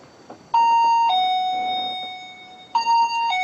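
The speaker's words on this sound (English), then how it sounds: "if something crosses the beam that we can't see, it will create an audio alarm like this" A laser beam detection device sounds an electronic alarm, loud and close: a two-tone chime, a long steady tone that slowly fades, then the chime starts again.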